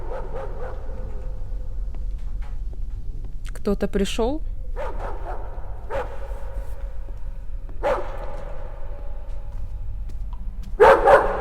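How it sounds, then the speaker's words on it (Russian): A dog barks in a Yakut horror video game, several separate barks spread across the stretch, one a quick burst, over a low ambient hum, with someone talking throughout. "Собака лает."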